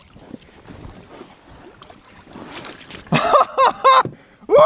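A motorcycle rigged as a waterbike floats on a lake, with soft, continuous water lapping that breaks into several louder splashing surges near the end.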